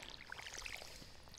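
Watering crops with a watering can in Stardew Valley gives a steady, soft splashing pour with scattered droplet patter throughout, close and alone with no talk.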